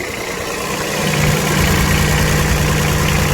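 An old diesel engine, a mine-site machine being tidied up, idles with a steady low rumble and knocking throb, rising slightly in level after the first second and holding close and loud.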